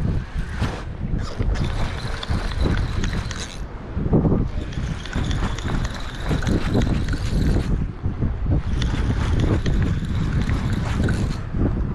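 Strong wind blowing across a dock by the water, gusting in loud, rumbling buffets against the microphone with brief lulls between.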